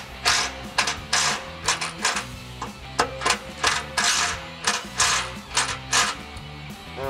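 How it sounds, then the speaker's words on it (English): Impact driver snugging down screws on a catalytic converter shield of a 3.5L Toyota Tacoma, a rapid series of loud, close, hammering rattling bursts in repeated short pulses with brief gaps, no talking. "we're just going to snug down these screws in our impact, with our impact"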